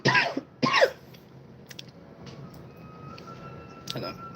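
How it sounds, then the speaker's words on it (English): Two quick coughs close to the mic at the start, then a quiet room with faint clicks and a short breathy noise near the end. "A bit of cough."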